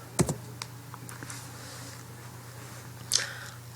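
A few sparse, light clicks of a computer keyboard as someone types into a search bar, quiet and close over a steady low electrical hum.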